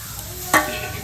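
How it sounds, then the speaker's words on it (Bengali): Grated coconut dropped into a hot kadai for a Bengali satpuri pitha filling, giving one short sizzling burst midway, then a low steady hiss of the pan. "বন্ধুরা, এভাবে নারকেল ছই মারার জন্য নারকেলটা দিয়ে দিব কড়াতে।"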